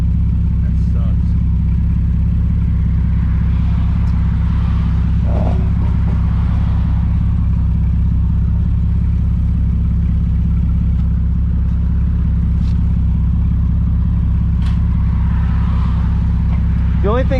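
A car's engine idling with a steady low rumble after its radiator has fallen off, heard up close and continuous, with a few faint clicks and distant sounds over it.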